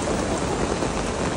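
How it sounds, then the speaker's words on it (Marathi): Heavy downpour in Goa, a dense, constant hiss of rain drumming on surfaces close by, loud and unbroken with no voices. "इथे खूप धुवाधार पाऊस पडतो"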